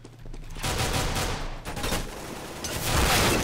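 Rapid gunshots from a P250 pistol in a Counter-Strike: Global Offensive deathmatch, loud and close in a continuous crackle of overlapping shots with no talk.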